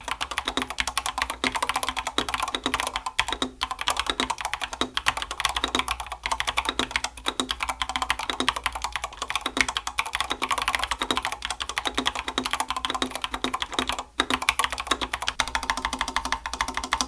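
Continuous rapid typing on an AJAZZ AKC087 mechanical keyboard in stock configuration, close and clear, with crisp clacky keystrokes in a steady rhythm and occasional louder spacebar hits.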